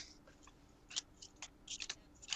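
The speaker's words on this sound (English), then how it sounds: "Don't want to shuffle the old-fashioned way because there are sleeves." Sleeved playing cards are shuffled close by, producing a quiet series of short, crisp plastic riffles and snaps in uneven bursts.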